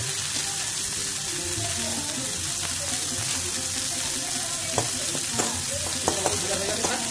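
A bay leaf fries in hot oil in a pan while a Bengali cauliflower pitha is being prepared. The sizzle stays dense and continuous, with faint watery sounds and a few sharp clinks near the end.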